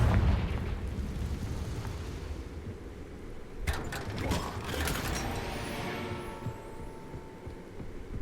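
A Confringo spell bursts in Hogwarts Legacy, a sharp blast followed by crackling, ringing debris and mechanical rattles over a low rumbling game backdrop, fairly loud and close.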